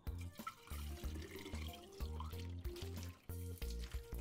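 Water from a household supply is poured into a bottle, a faint, steady liquid splashing and gurgling beneath strong, rhythmic background music.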